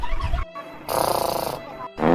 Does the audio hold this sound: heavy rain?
no